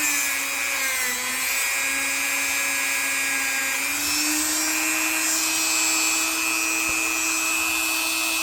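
A rotary tool with a new accessory grinding stubborn rust off a blade, a steady high whine with a dip in pitch as it loads, harsh rubbing grit beneath, close and continuous.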